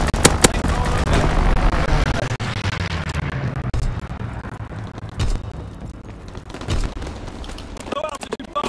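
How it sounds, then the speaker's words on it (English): Loud, dense explosions and gunfire from a low-altitude bombing run in Call of Duty WWII, a continuous barrage of blasts and crackling fire, with a game announcer's voice speaking over it. "Low altitude bombing run underway."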